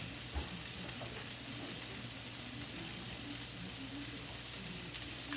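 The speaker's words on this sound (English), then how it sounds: "I'm going to let this saute a minute" Steak with mushrooms and onions sautés in a pan, giving a steady, even sizzle that holds throughout with no talking.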